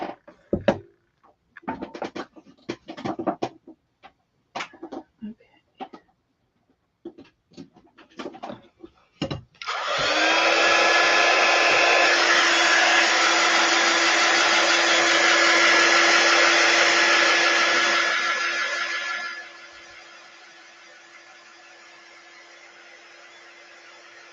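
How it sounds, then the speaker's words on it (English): Scattered clicks and handling knocks give way to a loud, steady whirring heat tool drying chalk paste ink, which runs about ten seconds before dropping to a quieter hum as it winds down. "So let's get our quick dry tool out."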